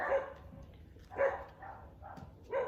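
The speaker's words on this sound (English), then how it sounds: "Sorry, that's my neighbor's dogs." Neighbouring dogs bark in a few separate bursts, muffled and somewhat distant, with quieter gaps between the barks and no voices over them.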